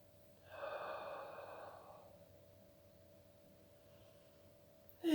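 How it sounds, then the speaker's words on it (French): Slow, deep breath drawn in and let out during a shoulder and upper-back stretching exercise, soft and close in a quiet room, with a faint steady hum underneath. "je vais prendre un moment pour respirer"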